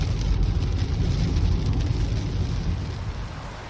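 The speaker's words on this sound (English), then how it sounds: "a heavy rain falling in intermittent lashes" Heavy rain lashes down on a busy highway, a dense, steady roar with a deep low rumble underneath and no voices.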